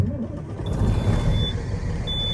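An old Peterbilt truck on a farm rumbles with a deep, steady diesel idle close by, while a high thin beeping tone chirps intermittently over it.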